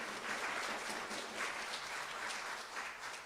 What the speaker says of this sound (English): let's have a round of applause for Reverend Sandra